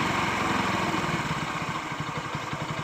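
A motorcycle engine idles steadily after its mileage and RPM settings have been adjusted, giving a continuous, close, even putter with a fast regular pulse throughout and no talking.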